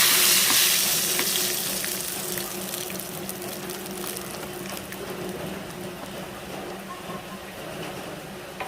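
Dried red chilies and mustard seeds crackle and sizzle in hot oil for a Kerala-style curry, loud and dense at first, then settling into a steadier frying hiss with occasional pops.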